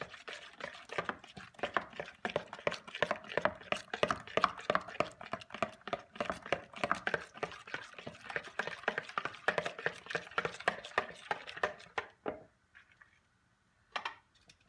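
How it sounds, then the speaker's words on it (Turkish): A sauce seasoned with salt is whisked briskly in a bowl. The rapid, rhythmic clicking scrapes are close and steady, then stop, leaving a few faint taps. "Çırpıyoruz."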